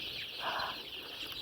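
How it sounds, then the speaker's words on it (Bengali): Brown cock chickens, a breed resembling native desi hens, cluck on a crowded poultry farm of about five thousand birds after a disease outbreak. A steady farmyard hiss runs throughout, with one brief, moderately loud cluck midway and no talking. "এগুলো হলো ব্রাউন কক, দেশি মুরগির মতন ব্রাউন কক"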